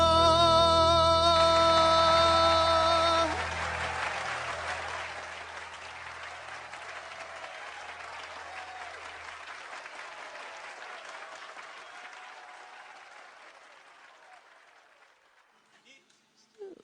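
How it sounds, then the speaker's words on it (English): Judges on an African TV talent show applaud after a performance, a full burst of clapping that follows music cut off at the start and gradually thins and fades toward the end. "all the judges are clapping"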